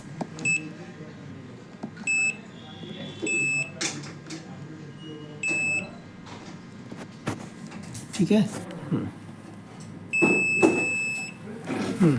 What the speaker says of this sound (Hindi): हम जो हमारा मीटर होगा उसको हम बजर रेंज में रखेंगे